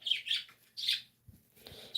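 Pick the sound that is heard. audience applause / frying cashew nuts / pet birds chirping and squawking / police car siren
pet birds chirping and squawking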